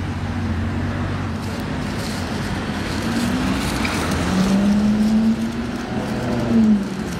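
A Lamborghini Reventon Roadster with a V12 engine pulling away, a loud, close engine roar rising in pitch through the gears over steady road and crowd noise.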